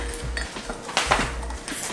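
A spoon clinks against the inside of a cup, stirring sugar into a morning drink with a few scattered, light metallic taps and soft scraping, close and fairly quiet.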